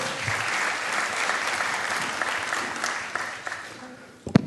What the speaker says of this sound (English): Please give a big warm round of applause for Mr.